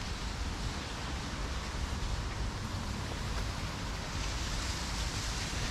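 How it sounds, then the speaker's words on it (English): Steady broadband rush of flowing water in Toruń, Poland, constant and fairly soft, without pauses or voices. "There's some flowing water through here."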